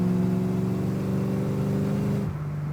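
A Foxbody Mustang drift car's 5.0L engine drones at a steady, strained pitch, then drops abruptly as the revs fall, loud and close.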